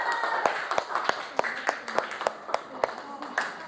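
A group of children in a classroom claps together in a steady rhythm of sharp, evenly spaced beats, with voices murmuring underneath.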